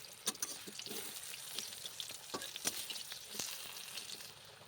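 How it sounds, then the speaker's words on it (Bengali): Eggplant pieces sizzling in a wok as they are stirred, a close frying hiss broken by sharp scraping clicks and spatters at an irregular pace, no talking. "ঢাকাটা উল্টে একবার নাড়াচাড়া করে নিলাম।"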